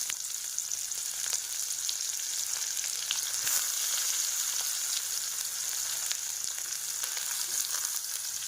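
Chopped onion frying in oil with black cumin seeds, making a steady, bright sizzle with occasional crackles and pops, close and unbroken, with no talking.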